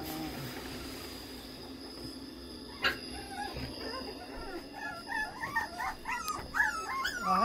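Young puppies in a night pen whimper and yelp in a rising string of high calls, growing busier toward the end over a steady background hum.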